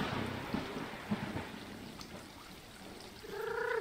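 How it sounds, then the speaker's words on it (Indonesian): Rain falls steadily in the Stray video game as a faint, even wash of hiss, with a brief tonal cry rising near the end. "Hujan."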